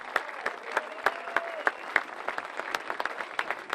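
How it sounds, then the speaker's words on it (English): Crowd applause at an NCAA Division III softball championship awards ceremony, a steady wash of many hands clapping with sharp individual claps standing out, sustained and fairly distant throughout. "Ladies and gentlemen, big round of applause."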